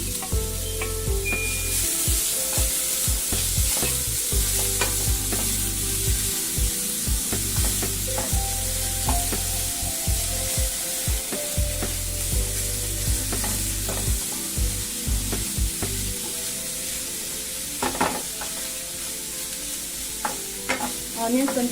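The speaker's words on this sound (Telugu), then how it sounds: "ఆనియన్స్ కొంచెం గోల్డెనిష్ కలర్ వచ్చిన దాకా కొంచెం వేపండి" Four medium onions sizzle in hot oil in a pan while a spoon stirs and scrapes them, giving a steady close fry broken by frequent clatters against the metal, with no one talking.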